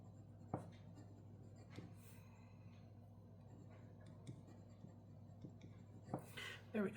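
A fountain pen with Diamine Celadon Cat ink writes on paper, giving soft, faint scratchy strokes and small taps at close range over a quiet room, ending with a louder rustle.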